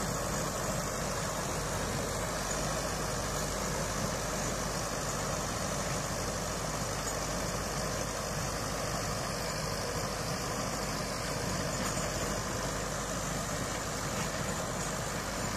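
Sonalika DI-60 tractor, a heavy 60 horsepower farm machine, idling at a dusty field, a steady low diesel rumble running evenly throughout with no talk over it.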